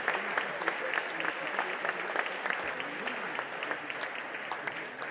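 Audience applause at a festive evening event, moderately quiet crisp claps from a crowd in a steady, continuous patter.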